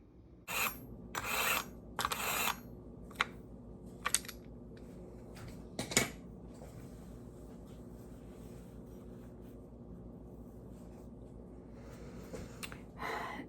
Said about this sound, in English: So I'm gonna go ahead and sharpen it so I can dice the onion up a little bit easier.